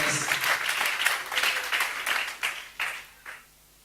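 A church congregation breaks into applause at a Saturday sermon, a burst of mixed clapping that swells briefly and then trails off into a few scattered claps, with faint voices underneath.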